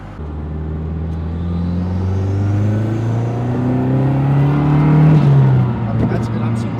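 A MazdaSpeed 3 with a low fuel pressure fault revs up close by, its engine note rising steadily into a loud peak. Around five seconds in, the revs fall away and the engine settles into a low, steady idle rumble.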